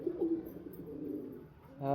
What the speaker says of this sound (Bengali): পায়রাটা আমাকে ভরসা করে আমার কাছে আবার রিটার্ন এসছে